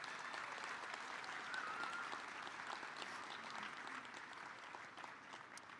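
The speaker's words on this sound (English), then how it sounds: "Graduates, let's give them a well-deserved round of applause" Steady applause from a high school graduation audience in Kent County, a dense even clapping that fills the hall at moderate level without a break, with no voices rising above it.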